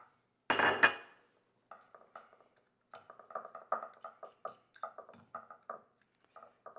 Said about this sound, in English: we're gonna pour our egg mixture on top, trying to get out all of those little good bits that might have stuck to the bowl